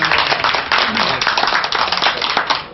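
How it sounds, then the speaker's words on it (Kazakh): Audience at a celebration led by a toastmaster claps together in a short, dense burst of applause lasting a few seconds, close and loud throughout. "Болса рұқсат бергендеріңізді бір шапалақ ұрып қойыңыздар."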